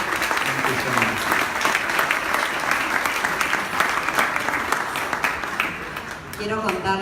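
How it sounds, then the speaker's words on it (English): Steady, dense applause from an audience at the opening of the ARFA 2018 Argentine art festival exhibition, honouring the artists and holding at an even level throughout, with faint voices mixed in. "So we're going to give them another round of applause for those artists."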